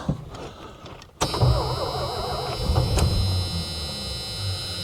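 A 1984 Dodge Ramcharger that sat for ten years in the desert cranks briefly, then its engine catches and settles into a steady, close idle with a high whine on top.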